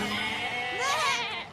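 Goats bleat in a short wavering call that rises and falls, fairly faint over a steady background hum, with a voice nearby.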